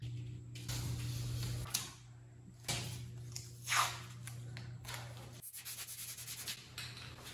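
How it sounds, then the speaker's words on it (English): Metal panels on a VW Bus body are hand-sanded before zinc weld-through primer, giving soft irregular rubbing strokes with brief louder scrapes and pauses, close and fairly quiet with no talk. "So I like to give it a little bit of sand and then wipe it down"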